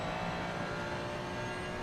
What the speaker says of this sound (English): You can hear the car going over the curbs